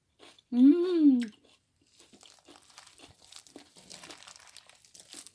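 Someone chews freshly seasoned dandelion greens, soft crisp crunching and wet mastication close by and fairly faint, after a short hummed vocal sound at the start.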